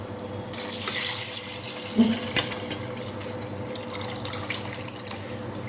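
Six glasses of water pour and splash into a cooking pot in a steady stream, with a couple of clanks partway through, close and moderately loud.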